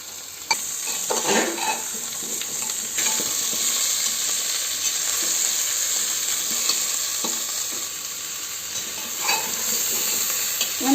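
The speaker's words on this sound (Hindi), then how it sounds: "कनी बढ़िया से कटहल के हम फ्राई कर लेवे।" Chopped jackfruit pieces fry in oil in a pan over high heat, a continuous sizzle broken by several scraping stirs of a spatula against the pan, close by and with no voices.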